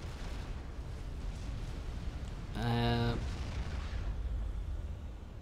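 Battleships shell a base in the real-time strategy game Supreme Commander: Forged Alliance, giving a constant low rumble of bombardment with a brief louder tonal burst in the middle; no talk over it.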